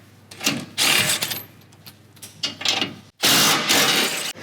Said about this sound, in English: we need to remove these 2 bolts on the cross member here and these 2 bolts over here